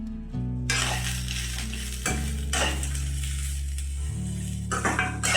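Grated coconut, cashews and onions sauté in a pan for Chettinad mushroom gravy, giving a steady close sizzle broken by repeated scraping stirs of a utensil against the pan.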